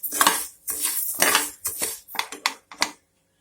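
Rice is dry roasted in a pan for black urad dal rice. It gives a string of quick, close scraping and rattling bursts from grains being stirred, with short gaps between them, then stops.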